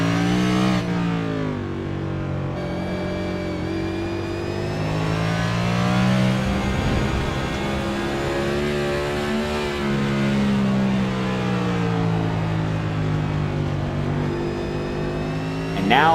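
A race car engine in a racing-league grand prix holds a loud, sustained drone as it climbs toward the red line in fifth gear, its pitch rising and wavering, with a commentator's voice faintly underneath.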